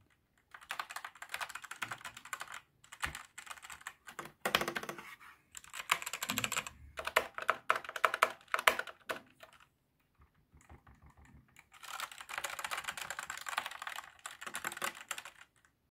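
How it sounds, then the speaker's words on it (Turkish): Typing on a Pusat K3 Pro red-switch mechanical keyboard in quick bursts of soft clacky keystrokes, with short pauses between runs, fairly close and moderately quiet, no voices. "Mekanik klavye dediğim gibi sesi de gayet güzel. Kırmızı switchli."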